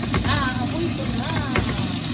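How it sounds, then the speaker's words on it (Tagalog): Onion and tomato sautéing in a pan give a steady, close sizzle and crackle throughout, with faint voice-like tones and light stirring movements over the frying hiss. "Lalantakin natin onion."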